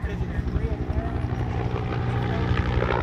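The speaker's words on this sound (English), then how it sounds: "one of the world's first attack helicopters, the AH-1 Cobra" An AH-1 Cobra attack helicopter's rotor thumps rapidly and steadily under a loud engine drone, close and continuous, with a voice speaking over it, at an airshow.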